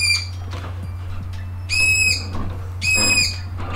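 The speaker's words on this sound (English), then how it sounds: "Don't mind the annoying bird uh, listeners." A bird calls in the background, sounding two loud, high whistled notes about a second apart over a steady low hum, with softer chirps in between.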